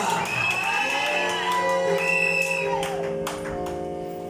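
Voices of a church congregation cheer, shout and whoop in praise of Jesus, a loud sustained crowd roar with scattered clapping that gradually eases off.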